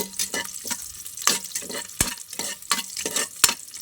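Ginger and garlic sautéing in a pan for a vegetable dish, with steady crackling sizzle broken by repeated scraping stirs and clinks, close and fairly loud, no voices.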